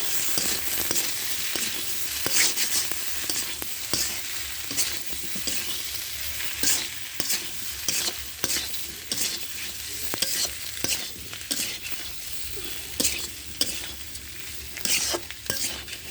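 Food frying in oil in a pan while being stirred, with repeated close scraping strokes over a continuous crackling sizzle for many seconds.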